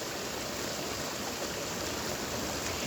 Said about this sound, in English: little water fountain. We have a few actually.